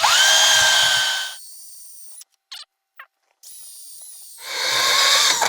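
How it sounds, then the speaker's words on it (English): A cordless drill spins a wire wheel against a part from a 50-year-old Volvo 164E engine, whining loudly up close in two bursts broken by a long drop as the wheel slows and briefly stops. "First thing we're going to do, use the old wire brush here"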